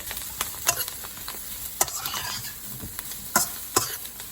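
Brussels sprouts crackle and sizzle in a hot pan as they char and crisp, with a steady hiss punctuated by sharp pops and occasional stirring scrapes, close up and without talking.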